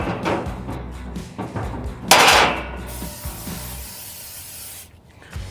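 Aerosol cooking oil hissing onto cast iron grates while seasoning an Oklahoma Joe's Marshal Centerbox smoker, with one loud close burst of spray standing out from a busy background of clanks and handling noise.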